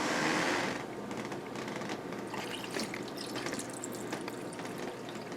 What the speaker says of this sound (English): Now the trick here was to just cover it with water.